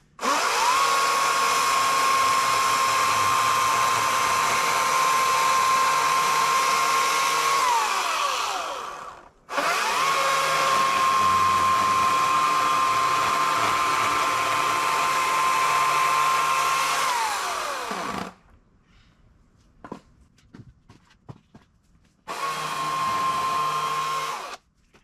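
An EGO CS2005 20-inch battery electric chainsaw cutting firewood: a loud, steady high motor whine in three long runs, the middle one ending in a dip as the cut finishes, then near silence with light clatter before a final short burst.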